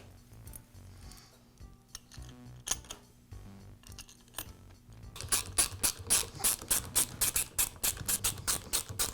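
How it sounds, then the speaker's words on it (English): Close, quiet fiddling with a Bostitch roofing nailer as its cap is refitted, scattered clicks and taps, then a rapid run of ratcheting metal clicks as screws are driven home, no talking. "And I'll finish up by reinstalling the cap."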